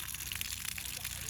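Water from an intake pipe dropping into a drum in a steady splashing gush, close and continuous, with a faint voice underneath.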